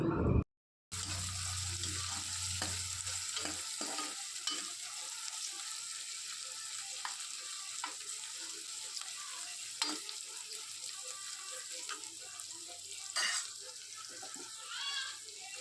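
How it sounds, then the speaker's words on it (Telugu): Masala onions with green chillies and curry leaves fry in a pot for egg pulav, producing a constant soft sizzle with periodic spatula scrapes and taps, heard nearby with no voices. "కలిపిన తర్వాత అందులో పచ్చిమిర్చి కరివేపాకు వేసి పచ్చివాసన పోయేంత వరకు బాగా కలుపుకోవాలి"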